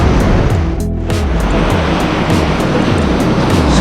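Rough surf at Lingayen Beach in Pangasinan roars steadily, a loud continuous wash of breaking waves with no voices.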